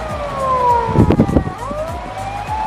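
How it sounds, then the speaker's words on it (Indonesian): An ambulance siren near a hospital in Japan wails in sweeping tones over low background noise, briefly joined by a burst of clattering sounds midway. "Jadinya kedengeran suara ambulan."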